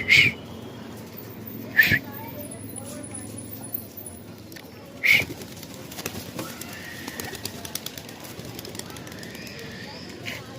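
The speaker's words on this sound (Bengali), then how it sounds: "এখানে 6টা নর পায়রা আছে।" Male pigeons in a loft, six birds together, with a few sharp wing flaps or bird calls standing out early and at mid-clip over a steady low murmur of cooing and rustling.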